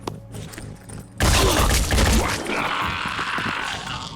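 After a second of quiet low rumble, a sudden loud burst of rapid gunfire erupts and rattles on, dense and close, like a firefight in the video game Phoenix Point.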